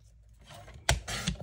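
Scissors cut craft paper for a Halloween project, close by: a quiet rustle, then two or three short, crisp snips in quick succession, with no talking.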